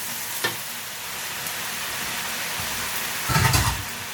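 Cabbage is stir-fried in a pan with a steady sizzling hiss. A few scrapes and stirs come through, and a louder burst of frying comes near the end.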